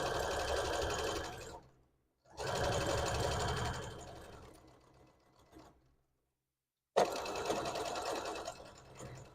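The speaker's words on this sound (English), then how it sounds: "we're just gonna sew these little ear horn things" A sewing machine stitches small horn-shaped ear pieces for a Halloween hat, its rapid mechanical whirring chatter running in three close bursts separated by short pauses, one run slowing and fading before stopping.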